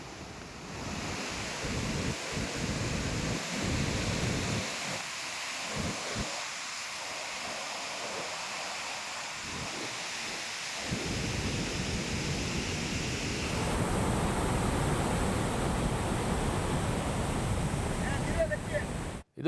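Heavy monsoon floodwater roars through the eleven open crest gates of Linganamakki dam, about 42,705 cusecs released. The thunderous, steady rush fills the whole span, swelling slightly louder toward the end.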